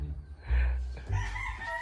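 A rooster crows briefly, close and fairly loud, over low rumbling background noise.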